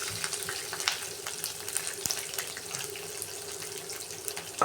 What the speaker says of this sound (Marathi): मिरची पण भाजून घेऊया.